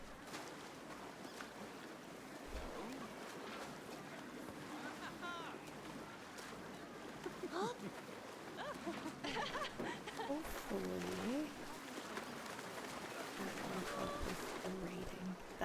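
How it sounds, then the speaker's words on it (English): Wave pool water in the video game Planet Coaster 2 makes a constant washing surf with rolling swells, while someone talks over it throughout. "That is terrifyingly aggressive water."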